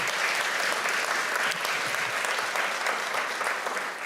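Audience applause at a motivational speaking event, dense, steady clapping from a large crowd, loud and sustained for the whole stretch.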